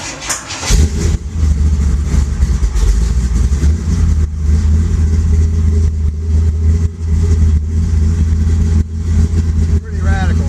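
A 1974 Chevy Nova pro-street car's engine cranks and catches within the first second, then settles into a loud, deep rumbling idle with some uneven revving, close up and dominating throughout.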